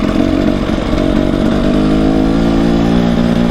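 A TX motorcycle engine runs steadily and loud, up close, through a short ride in light rain, a dense continuous drone with no voices over it.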